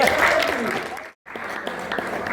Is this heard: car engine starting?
no